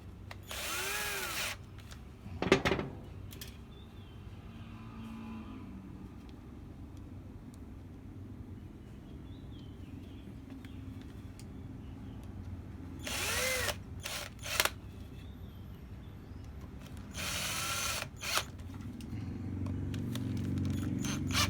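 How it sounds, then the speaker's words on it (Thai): A power drill whirs in several short bursts separated by pauses while tightening bolts on an angle grinder, with quieter scraping and handling noises between runs. "ใช้สว่าน ขันเลยแล้วกันนะฮะ"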